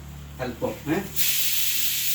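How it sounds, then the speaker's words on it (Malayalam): Mustard seeds hit hot oil in a pan for a Kerala fish curry, setting off a sudden loud, steady hissing sizzle right after a brief spoken word, continuing close and strong to the end. "എണ്ണ ചൂടാകുമ്പോൾ അല്പം കടുകിടുക."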